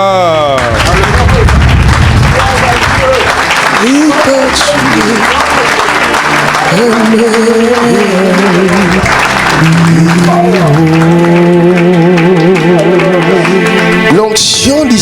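A church congregation claps and cheers, loud and sustained, under a preacher's amplified voice during a revival service.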